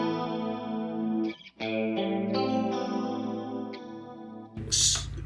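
Stratocaster electric guitar in pickup position 2 with a Suhr Woodshed compressor pedal switched off, a sustained chord-based passage with a brief drop near the middle and a brighter burst at the end, played alone.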